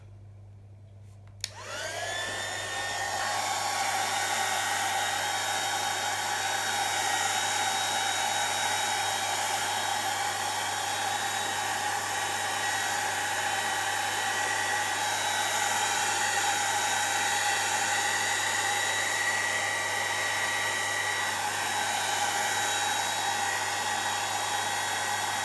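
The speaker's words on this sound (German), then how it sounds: "Und jetzt kommt unser Föhn zum Einsatz." A hair dryer switches on after a moment of quiet and then blows steadily and loudly at close range for the rest of the time, drying a photo transfer on wood, with no speech.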